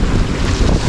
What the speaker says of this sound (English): beaten up wind, very strong winds